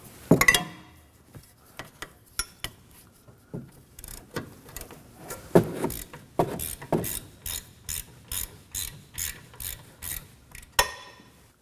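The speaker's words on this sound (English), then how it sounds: "Using a 14mm socket, I'm going to go ahead and crack them loose." A 14mm socket on a ratchet cracking loose brake caliper bracket bolts on a 2016 Kia Sorento, scattered clicks and clanks followed by a quick, evenly spaced run of ratchet clicks, close and clear with no talking.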